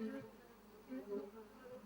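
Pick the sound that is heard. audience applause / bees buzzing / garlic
bees buzzing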